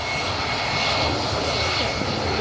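Vueling airliner jet engines roaring steadily at Manchester Airport, a loud, continuous broadband rumble and whine with no pauses, heard from close range without any talk.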